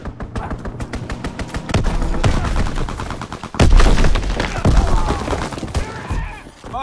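Dense gunfire and heavy artillery explosions from a Call of Duty WW2 battle, with rapid rifle and machine-gun bursts layered over booming shell impacts that swell louder midway, continuous and close.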